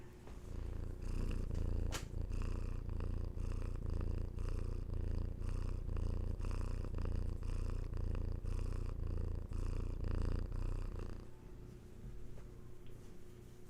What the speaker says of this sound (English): The purrs, right?